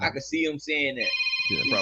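A telephone with a house-phone style ringtone starts ringing partway through, a steady, warbling electronic ring that follows, then continues under, a man's conversational speech.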